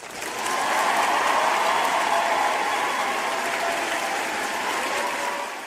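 A sustained round of applause swells in within the first half second, holds at a strong, even level for several seconds, then tapers slightly at the end; many hands clapping together with no talk on top.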